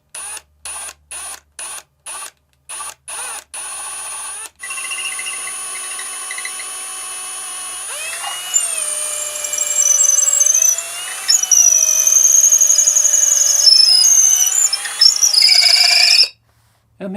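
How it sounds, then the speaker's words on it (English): A power drill bores a hole through the neck pocket of a bass body, starting with several short bursts and then running in a long, shrill, whining stretch whose pitch shifts as the bit cuts, close and loud. "This way I can keep the drill bit flat on the neck pocket and it's not going to scratch it up."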